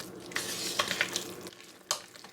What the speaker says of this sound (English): we're just going to stir this until it's well combined